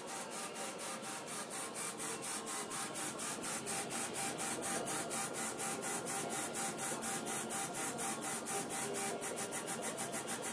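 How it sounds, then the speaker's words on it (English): A LaserPro Explorer 2 laser engraving machine engraves a military GI tag at 500 DPI, giving a steady mechanical whir with rapid, even back-and-forth strokes that repeat continuously at close range. "we're running at about 500 DPI so we can have a nice clean engraving"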